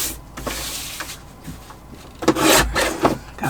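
A piece being trimmed a little on both sides, heard as short, rough rubbing and rasping strokes close by, coming in uneven bursts with a louder run of scraping in the second half.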